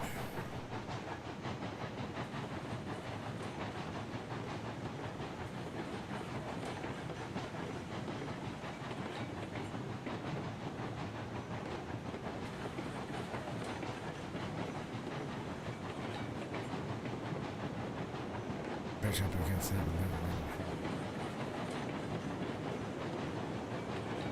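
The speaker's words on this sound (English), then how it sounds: "the Locomotive Chuff Sounds do sound pretty good" A steam locomotive in the Railroads Online train simulator runs with a steady, dense rumbling chuff and hiss that continues throughout, with a brief brighter burst near the end and no voices.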